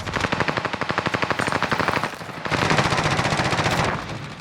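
Rapid automatic gunfire in the video game Warzone on the Caldera map, loud sustained bursts of rattling shots with a brief pause midway, then another long burst, no voices.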